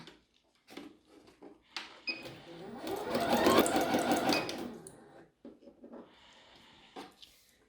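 A sewing machine stitches through paper in short bursts, then one longer steady run that swells and fades, with brief clicks and quiet gaps between; a voice speaks faintly in places.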